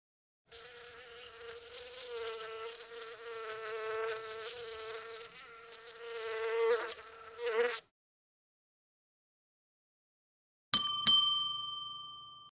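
A bee buzzing, a steady close droning hum lasting several seconds with slight wavering in pitch before cutting off, then after a pause a bright bell-like ding rings out and fades.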